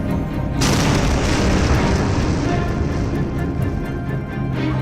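A heavy explosion from an airstrike on Gaza erupts suddenly and loud, then settles into a long, dense rumbling roar that slowly fades across several seconds, with no speech.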